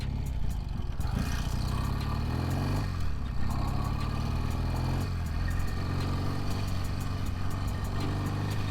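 A 1971 BSA 650 Lightning British twin is ridden, its engine a loud, steady throb with rising pitch sweeps as it revs through gear changes, close and continuous with no speech.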